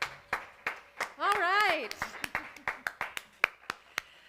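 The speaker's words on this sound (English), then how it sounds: "We have agreed that we're going to clap for ourselves just to keep our self-esteem up." A small group claps in a scattered, uneven rhythm, roughly a dozen sharp hand claps spread across a few seconds, with a brief sung or spoken voice in the middle and a short remark at the start.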